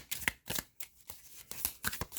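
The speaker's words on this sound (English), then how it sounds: "This second deck that I am shuffling right now, guys, is the reverse, the vice versa tarot" Tarot card deck being shuffled by hand: quiet, close bursts of riffling and flicking cards in an uneven rhythm, about seven quick rustles with short gaps.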